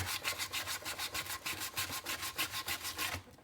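Sanding a Star Wars Mcquarrie Fett helmet skirt by hand, a steady rhythmic scratch of abrasive strokes, about six per second, close and alone, stopping abruptly at the end.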